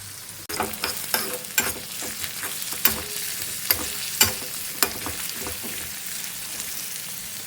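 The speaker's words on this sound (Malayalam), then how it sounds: "ഇതൊന്ന് ഇളം ഗോൾഡൻ നിറമാവുന്നത് വരെ നമുക്കൊന്ന് വറുത്തെടുക്കാം." Steady oily sizzling from a hot pan, with sharper crackles and pops breaking through every second or so as onions and curry leaves fry and are stirred.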